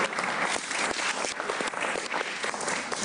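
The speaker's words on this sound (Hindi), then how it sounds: "आज बैठे उसकी तालियां बजाइए।" A studio audience on a Pakistan cricket talk show claps loudly and continuously for a few seconds, a thick even wash of close applause with no voices.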